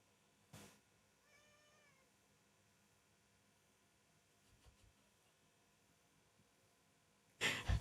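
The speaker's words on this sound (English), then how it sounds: "The cat is meowing." A house cat gives a faint, short meow in a quiet room between a soft breath at the start and a loud rustle at the end, heard alone.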